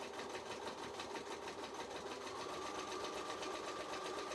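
Sewing machine stitching around a round jelly roll strip mat, a steady fast mechanical whir with rapid needle clatter running continuously and close, with no voices.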